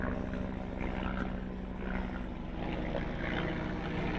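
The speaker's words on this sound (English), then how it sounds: "that's the search and rescue helicopter." A steady, loud low rumble of rotor and engine noise fills the whole stretch as a search and rescue helicopter passes close overhead.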